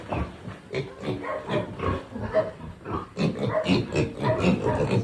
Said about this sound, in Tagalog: Kaya ating mga baboy